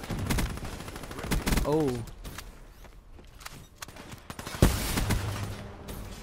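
Weevil gun fired in the game Black Ops 3, a loud burst of rapid gunfire near the start, then a quieter stretch and another sharp shot around the middle, with a brief voice exclamation.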